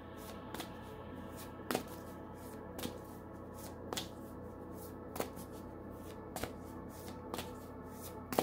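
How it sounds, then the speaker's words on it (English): Tarot cards are shuffled with soft, quiet riffling and sharp clicks that repeat roughly every second in a close, faint, steady rhythm. "I'm hearing one shuffle to get some of your energy into the cards."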